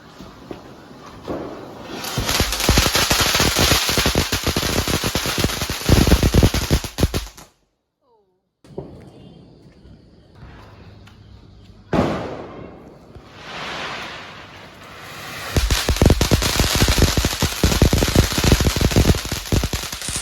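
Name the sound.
firecrackers going off for Vishu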